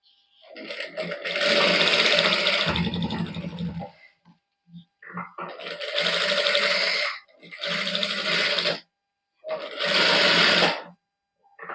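A sewing machine stitches a sleeve cuff on a boutique garment in several close, rapid whirring runs of a second or two each, separated by short pauses.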